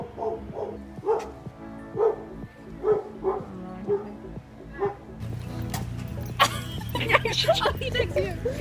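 A dog barks repeatedly in short, evenly spaced bursts, fairly close, at a casual home gathering; a steady hum and other noises build up over the final few seconds.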